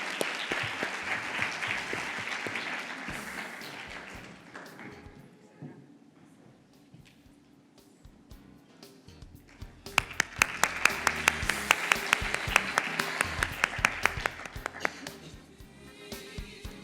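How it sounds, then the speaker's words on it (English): Audience applause at an ICAN awards and felicitation event, a long stretch of dense clapping that fades midway, then swells again with sharper, louder claps; speech-like sounds mix in at times. "A big round of applause."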